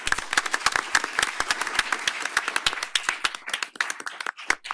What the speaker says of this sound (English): I would really like a round of applause and appreciation for all of our panelists today